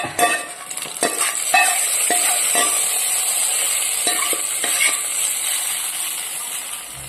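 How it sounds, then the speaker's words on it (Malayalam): Mustard seeds splutter in hot oil for a Kerala kalan tempering, with sharp scattered pops and crackles over a continuous close sizzle. "ഇതിലേക്ക് ഒഴിക്കാം. കടുക് വറുക്കാം."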